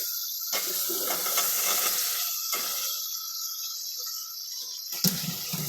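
Raw banana pieces drop into oil and fried spice paste, setting off a steady, close hiss of sizzling that fades and drops out in places before a brief clatter near the end.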